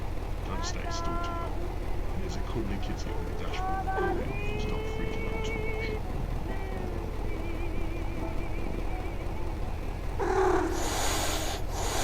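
Cat meowing in the horror bus-driving game Night Bus: several short, fairly clear meows under a steady game background hum, with a brief louder burst near the end; no talk over them.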